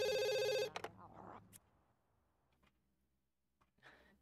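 A telephone rings in The Sims 2, a bright repeating bell that sounds loudly for just over half a second and then stops, followed by quiet game clicks, soft murmuring and a faint chime near the end.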